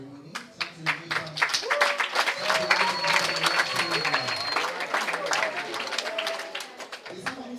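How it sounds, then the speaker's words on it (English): Clapping at an International Women's Day celebration before an award ceremony, distinct claps and scattered applause from the crowd, with people talking and voices rising over it through most of the stretch. "There's someone who's clapping a lot on this side."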